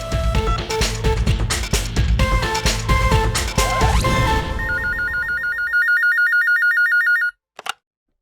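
A telephone rings with a steady repeating electronic trill, loud and alone, as a call to the police is placed in a domestic scene; dramatic music and crashing sounds fill the moments before it begins.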